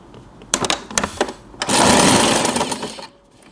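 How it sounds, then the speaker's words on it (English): A sewing machine stitches fabric for a headband bow, first in a few short stuttering bursts, then in a steady, louder run of about a second and a half before stopping. "Leave the needle down and we can adjust the fabric and we can continue sewing."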